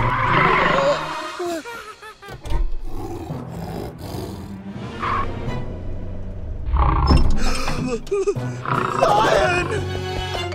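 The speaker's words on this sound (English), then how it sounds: "A new lion is coming to the animal sanctuary." A cartoon lion from a children's animated show about a magic pet roars loudly at an animal sanctuary, over music and sound effects, with animated voices talking around it.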